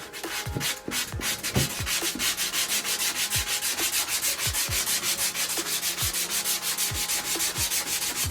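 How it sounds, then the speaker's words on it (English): Hand sanding of a drywall patch with P120 grit sandpaper, rapid rhythmic scratchy back-and-forth strokes, close and steady throughout. "I'm going to sand it and"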